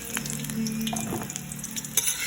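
Okra sizzles in a frying pan with steady crackling and a few stirring clinks and scrapes, close by and with no talking.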